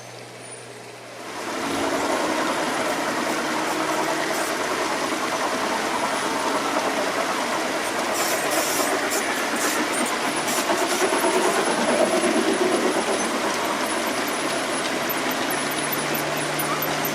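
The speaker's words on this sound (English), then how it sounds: "Here we have a logging train pulled by none other than the Shay locomotive" A Shay geared steam locomotive hauls a logging train on a garden railroad, a steady rumbling, rolling run that rises after a quiet start and holds fairly loud and close for the rest of the stretch.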